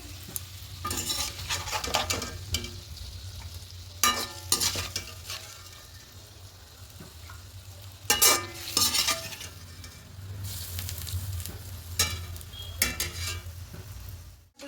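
Paneer pieces frying lightly in a kadhai for an aloo paneer dish, with a low steady sizzle broken by bursts of spatula scraping and turning and light metallic clinks, and no voices.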